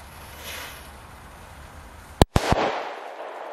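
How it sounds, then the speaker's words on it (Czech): A La Bomba firecracker holding about 2.5 grams of powder blasts against a tree outdoors, one loud sharp bang followed by a second crack and a brief rumbling tail. "A my už tady máme další petardu, tentokrát je to petarda La Bomba"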